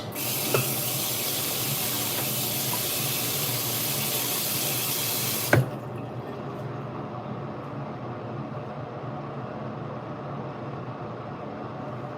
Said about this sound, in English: We will rinse out our brush.